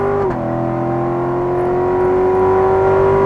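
A car engine holds a loud, steady drone close by, its pitch dropping sharply in a brief upshift near the start and then settling into an even, sustained hum without any voices.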